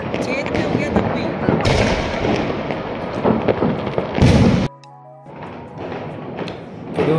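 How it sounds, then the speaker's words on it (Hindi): Diwali night firecrackers burst in Dehradun amid festival bustle, a dense, loud run of crackles, pops and thumps with voices talking underneath. The bursts cut off abruptly, leaving quieter background noise and a lingering tone. "सारे मम पटाखे फोड़ दिए हमने"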